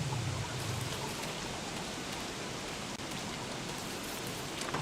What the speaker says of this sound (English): Is it another frog rain?